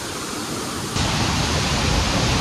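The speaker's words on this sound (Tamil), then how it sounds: "இதில் வந்து அப்படியே தண்ணி ஃப்ளோ போகுது" Pullaveli Falls pours in a steady broadband rush of falling water, close and continuous, swelling noticeably louder partway through as the view shifts nearer the flow.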